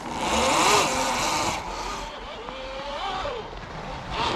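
An electric motocross MTB hybrid rides hard through a snowy berm, giving a loud, close, rising and falling motor whine with rushing wind and crunching noise throughout.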